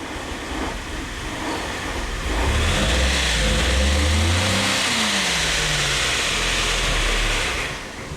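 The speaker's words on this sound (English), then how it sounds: "I got the car started, just pumped the gas" A 2009 Suzuki XL-7 engine with a snapped timing chain idles and then revs as the gas is pumped, a loud steady mechanical roar with rising and falling pitch throughout.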